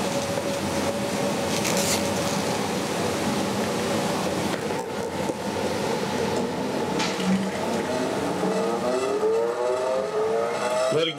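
A bench grinder wheel, fitted with a dresser for grinding steel, runs up to full speed with a steady mechanical hum and whine, its tones climbing in pitch toward the end, moderately loud.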